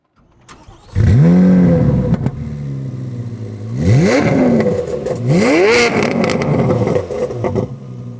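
A powerful 670-horsepower C8 Corvette Z06 engine starts with a roar, then revs hard twice in rising sweeps, settling into a loud, rumbling idle between blips.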